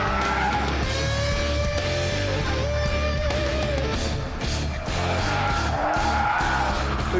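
A Top Gear test car slides sideways on a racetrack, its tyres squealing in long strained tones over a steady, loud engine roar, with no talk over it.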